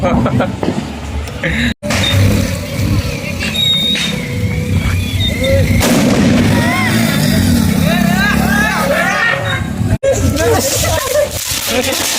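Diwali firecrackers burst in a loud, dense barrage: sharp bangs, crackling and rising whistles of rocket-style crackers, with voices talking and shouting throughout.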